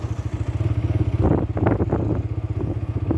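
A TVS Apache 4V 160 motorcycle pulls up a slope on its own in third gear, its engine putting out a steady low, throbbing drone. Clattering mechanical noise rises in the middle, and no one talks.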